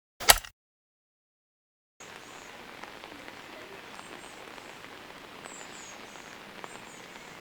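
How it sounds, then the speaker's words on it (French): Rain falls steadily on Kefalonia island, a soft, even patter with scattered drips, faint and continuous after a brief click and a silent gap. "Comme vous pouvez le voir, comme je l'ai filmé ce matin, il pleut."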